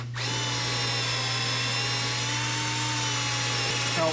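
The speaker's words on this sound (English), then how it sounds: "I got to drill a new hole here and a new hole here" A power drill with a freshly sharpened bit bores a new hole for a tank strap bolt, running close and loud at a steady whine for about four seconds with a faint hum beneath.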